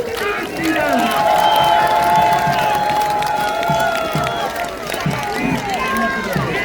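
A crowd at an outdoor campaign rally in Bucheon for a candidate cheers and claps in a sustained, loud roar, with an amplified voice carrying over the noise.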